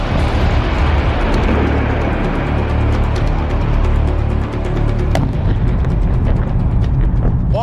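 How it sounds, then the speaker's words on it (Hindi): A large explosion from a drone near the Kremlin dome, heard as a dense, continuous roar of broadband rumble with crackling bursts that stays loud and unbroken throughout. "उसके गुंबद के पास होता है एक बड़ा धमाका।"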